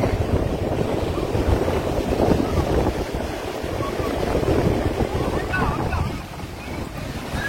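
A trawler passes at sea near the Digha estuary, heard only as a steady rumble mixed into strong wind buffeting and the wash of waves, continuous and fairly loud throughout.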